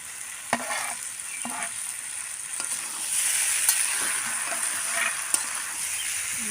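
Prawns sizzle in a pan with jackfruit while a spatula scrapes and stirs a few times, the frying hiss rising slightly partway through.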